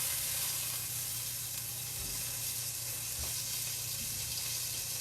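Chicken piccata cutlet sizzling steadily in a frying pan, a constant close hiss of hot oil with a faint low hum beneath and a soft scrape as the cutlet is shifted.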